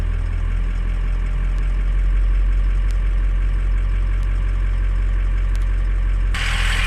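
A Ford 550 truck engine idles up in neutral, a steady low rumble with a slight miss that rises in speed, close and loud throughout, with a brighter burst near the end.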